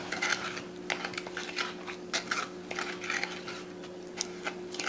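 Utensil mixing a BBQ short rib sauce base with Worcestershire sauce in a bowl: quick clicking and scraping strokes in an uneven rhythm, close and moderately quiet over a faint steady hum.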